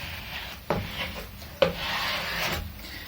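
The flat bottom of a super glue can is rubbed firmly across guitar wood to burnish it, giving two sharp-onset strokes followed by a sustained scraping rub, close and clear.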